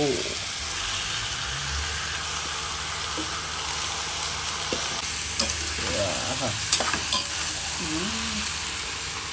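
Chicken is fried and sizzles in a pan over cooked onion, with a steady loud sizzle, stirring scrapes and clinks, and faint voices in the background.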